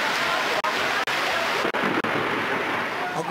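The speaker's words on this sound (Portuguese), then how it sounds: "o momento em que a chuva arrasta todas as barracas, mesas, cadeiras, lonas e mercadorias da feira" Heavy rain and rushing flood water sweeping through a street market on a city avenue, a loud continuous roaring wash with a few brief dropouts.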